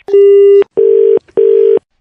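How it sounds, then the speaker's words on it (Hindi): Three steady electronic tones on a phone line, one longer beep followed by two shorter identical beeps with brief gaps, loud and clean, marking a dropped call or cut connection. "फिर से फोन कट रहा है, शायद सिग्नल का कोई प्रॉब्लम है"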